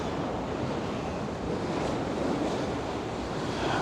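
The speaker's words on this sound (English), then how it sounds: "some of the waves just crunching over the wall" Storm waves crash over the Blackpool sea wall during a high tide, a steady roaring wash of surf with gusting wind buffeting the microphone throughout, loud and close with no talking.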